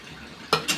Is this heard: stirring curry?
yes